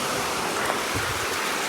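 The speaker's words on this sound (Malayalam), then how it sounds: "മഴ പെയ്യാൻ തുടങ്ങി ഗായ്സ്, നമുക്ക് നോക്കാം വെള്ളം വരുന്നുണ്ടോ." Rain beginning to fall, heard as a steady, even hiss of water noise close by with no talking.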